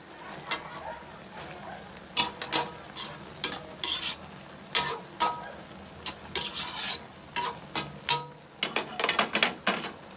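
Taro being stirred in coconut milk in a pot: a string of close scraping, bubbling stirs at an uneven rhythm, with a soft simmer underneath and no voices.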